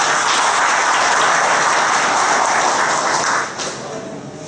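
A hall of people at a city council ceremony applauds police officers, a dense, even roar of clapping from many hands that holds steady, then thins and fades near the end.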